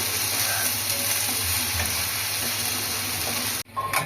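Spice paste frying in a pan for Kolkata-style ghugni, a dense continuous sizzle with soft stirring scrapes, close and fairly loud, cutting off abruptly near the end.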